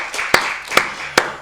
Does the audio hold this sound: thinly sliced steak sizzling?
no